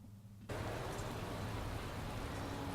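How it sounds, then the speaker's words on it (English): Steady rain hissing at a race track in Beijing in the racing management game Motorsport Manager, starting abruptly after a brief quiet moment and continuing as an even, moderately loud wash with no voices. "It is raining at the start of the race."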